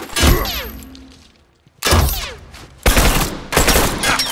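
Gunfire in The Last of Us Remastered, several loud close bursts of shots separated by brief pauses, each blast ringing out with echoing debris.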